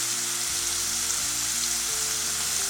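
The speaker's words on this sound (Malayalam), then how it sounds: "ഇതൊന്ന് വഴറ്റിയെടുക്കാം." Ginger, dried and green chillies and curry leaves sauté in hot oil in a pan, a dense steady sizzle heard close with faint tonal hum beneath and no voice.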